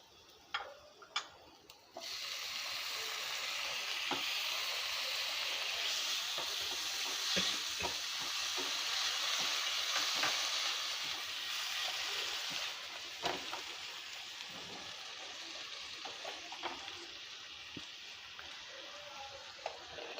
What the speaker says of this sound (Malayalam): ഇവിടെ നമ്മുടെ തക്കാളിക്കും സവോളയും ഇതെല്ലാം കൂടെ ഇട്ടത് വഴറ്റുന്നുണ്ട്